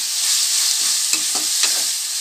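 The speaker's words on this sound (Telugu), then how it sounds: "టమోటాలు మొత్తము వేగిపోవాలి ఫ్రెండ్స్. మంచిగా" Tomatoes fry in a pan with an even, loud, hissing sizzle up close, interrupted by three short scraping stirs near the middle. No one speaks.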